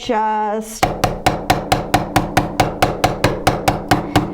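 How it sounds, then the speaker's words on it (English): Steady, evenly spaced hammer blows ring out on a stamped metal jewelry frame, about four per second, loud and close, after a brief tonal hum at the start. "you're going to flip it back over, and you're going to hammer again in that area"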